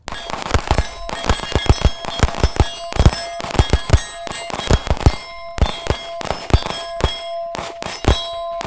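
Sharp, loud gunshots crack in a rapid, uneven string, many shots close together during a shooting-on-the-move drill, with brief gaps between bursts.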